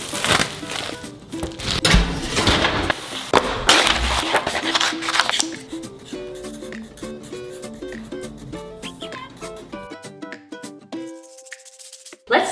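Plastic wrap being pulled and crinkled off a pizza, loud close crackling and rustling for several seconds, fading into quieter rustles with music-like tonal background toward the end.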